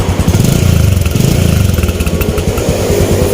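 A Suzuki SP135 motorcycle engine with an upgraded carburetor and stock exhaust idles loudly up close, its low thumping pulse steady and slightly uneven, with a raspy exhaust note throughout.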